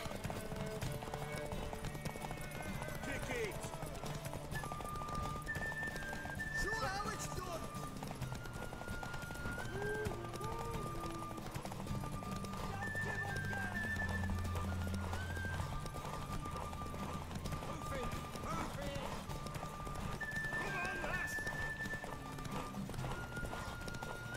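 In the video game The Witcher 3, hooves clip-clop steadily with occasional whinnies over a low ambient background, and a voice speaks intermittently throughout.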